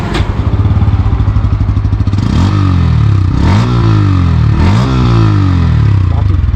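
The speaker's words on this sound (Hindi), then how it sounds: "चलिए एक बार मैं आप लोगों को इसकी जो एग्जॉस्ट साउंड है वो भी सुना दूँ।" Bajaj Pulsar N160 motorcycle exhaust, loud and close, idling with a steady beat, then revved twice in rising and falling sweeps before settling back to idle.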